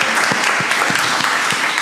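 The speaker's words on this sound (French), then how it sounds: "Applaudissez." Audience applause after a call to clap for the president of the agglomeration at a regional health event, a steady dense wash of clapping with a few sharper low claps standing out, close and loud throughout.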